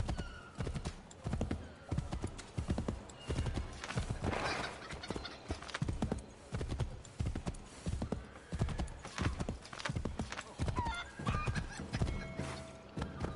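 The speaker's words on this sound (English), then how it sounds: "I just love how I'm riding my horse all through the town" Horse hooves clip-clopping at a steady walking rhythm through a town in Assassin's Creed 3, loud and close, with an occasional whinny and no talk.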